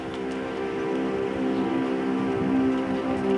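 Steady rain falls on a cold morning high in the northern Rockies, a continuous close patter of drops on surfaces with no voices, holding an even level throughout.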